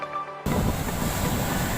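Big waves at Sirombu beach, a rocky shore in West Nias, surge in as a loud, continuous wash of surf that begins abruptly and holds steady without any voices.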